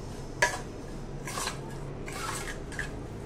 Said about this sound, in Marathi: हे छान हलवायचं, एकत्र छान करायचं।